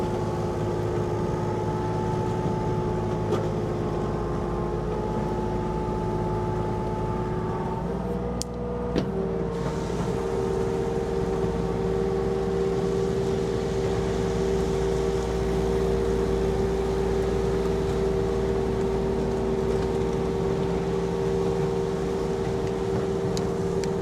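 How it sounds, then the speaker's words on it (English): A tracked machine's diesel engine works on a farm during a scrap cleanup, a steady close droning hum with a brief shift in pitch partway through before settling back into a continuous working note. "Track machine does better for this job."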